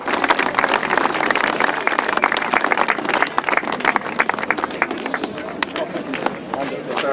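Applause at a grasstrack racing award ceremony: a crowd claps steadily and briskly for several seconds, fairly close and loud.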